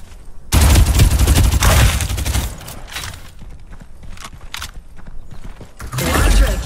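Rapid bursts of gunfire in the battle game Farlight 84, loud and dense at the start, thinning to scattered shots and clatter, then swelling into another heavy burst at the end.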